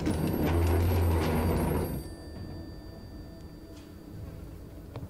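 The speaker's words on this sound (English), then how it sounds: "Excuse me, great-grandpapa. I need to answer the phone." Telephone ringing indoors, a loud bright electric bell for about two seconds, then stopping into quiet room noise with faint clicks.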